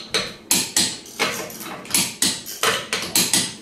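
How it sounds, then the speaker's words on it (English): Sharp metallic clicks and knocks ring out about a dozen times in an uneven rhythm, close and fairly loud, as a torque wrench is worked on the wheel lug nuts of a Mitsubishi Mirage during routine service. "The operation of a torque wrench like this is simple. You set the measurement, and you move it down until it clicks."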